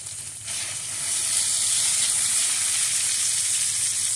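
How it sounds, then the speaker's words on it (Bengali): Mustard and poppy seed paste fries in a pan with black cumin and tomato sauce, a steady dense sizzle that swells after the first half second and holds loud and close throughout. "সরিষা পোস্তদানা বাটা দিয়ে বেশিক্ষণ কষাবো না"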